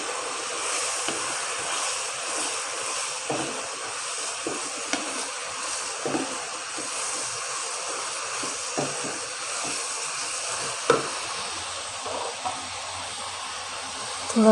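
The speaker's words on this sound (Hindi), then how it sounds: "इसके अंदर अब डाल देते हैं बंद गोभी। 1-2 मिनट के लिए इसको भी भून लेते हैं।" Shredded cabbage sautéing in spiced masala in a pan makes a soft, continuous hiss, with a few faint clicks and knocks scattered through it.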